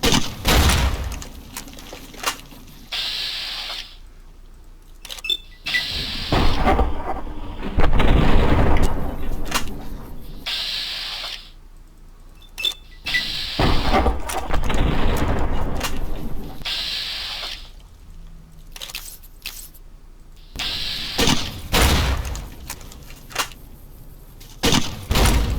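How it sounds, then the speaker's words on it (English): Grenade launcher explosions in Fallout: New Vegas during a fight with Deathclaws, repeated heavy booms and bursts of gunfire in loud clusters with quieter gaps between. "let's back up on using the grenade launcher"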